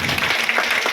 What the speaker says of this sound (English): Can you have a clap?